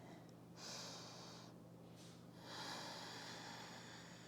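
Deep inhalations during a morning yoga class, two long airy breaths drawn in close to the microphone, each lasting about a second, over a steady low background hum.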